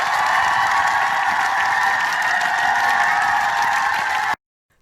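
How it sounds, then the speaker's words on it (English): A small television studio audience claps and whoops in a steady, loud burst that stops abruptly, with a second of silence after. "the whooping and the clapping"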